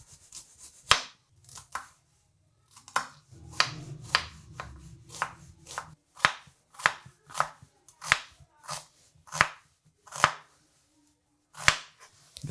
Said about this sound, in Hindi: सब्जियों में से सबसे पहले हम प्याज काट लेंगे